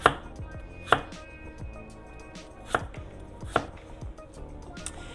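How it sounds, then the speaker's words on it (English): A knife slices ginger into thin planks on a cutting board, giving four or five sharp, separate chops spaced about a second apart, close and clear with no talking. "So we've got our ginger here. I'm just going to slice it into thin planks."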